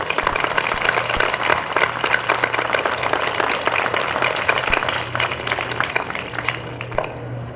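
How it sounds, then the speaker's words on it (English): Sustained applause fills a fall sports senior recognition ceremony at a high school, steady crowd clapping honoring the athletes, with a low hum running underneath throughout. "Let's have a round of applause for all of our athletes."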